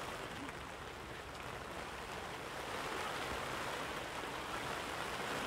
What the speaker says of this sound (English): Rain starting to come down steady now here at Birkenhead War Memorial Park.